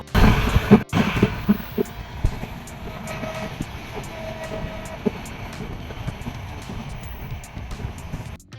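A train on the Dhaka to Cox's Bazar route rumbles along the rails, heard from a window seat inside a carriage, with a steady low roar and faint rhythmic clicking of wheels over track joints.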